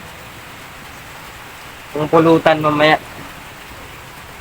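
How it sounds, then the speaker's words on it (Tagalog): Heavy rain pours down as a steady, even hiss through the whole stretch, with a short burst of people talking over it in the middle. "malakas ulan"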